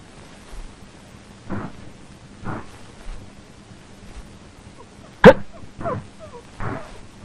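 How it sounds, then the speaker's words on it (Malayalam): A dog barking in short, spaced bursts, muffled and at a distance, with one sharper, louder bark standing out partway through. "ഏതാണ് ഈ ഡോഗ്? അടുത്ത ഫ്ലാറ്റിൽ ആരെങ്കിലും ആയിരിക്കും."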